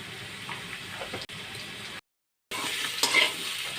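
Koi fish sizzles steadily in hot oil while cumin and green chili paste, salt and turmeric go in. The frying hiss is close and continuous, breaks off briefly, then returns slightly louder with a few stirring clicks.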